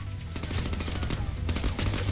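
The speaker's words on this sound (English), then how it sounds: "No, stop shooting me." Rapid automatic gunfire in the Deadpool video game, a steady rattling burst of shots close and fairly loud, continuous over the short stretch.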